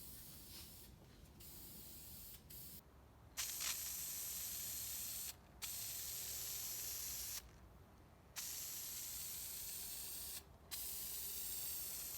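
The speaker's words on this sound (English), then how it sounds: "I can spray a coat of it and it'll be dry within minutes" Hissing aerosol spray applying a coat of finish in several long bursts separated by short pauses, close and fairly loud, with no voices.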